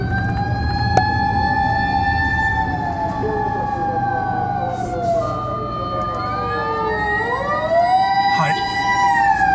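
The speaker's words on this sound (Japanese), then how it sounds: "今は緊急車両がいっぱい走ってます。" Several emergency vehicle sirens wail past on city streets, their rising and falling tones overlapping and sliding in pitch, heard from inside an N-WGN Custom on a test drive over a low road rumble, with a brief spoken word.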